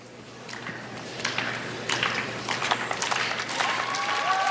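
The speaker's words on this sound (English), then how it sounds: "It's always good when the clapping builds to welcome you to the ice." Arena audience clapping at a figure skating free dance event as a Russian ice dance pair takes the ice, a steady crowd patter that swells and builds louder over a few seconds.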